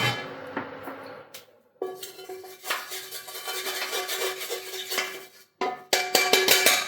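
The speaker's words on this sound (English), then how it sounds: "we'll take this off, scrape the egg out and give it a quick clean" A metal utensil scraping egg from an Onyx 30cm cast iron skillet, a run of close, ringing scrapes and clanks broken by two brief pauses.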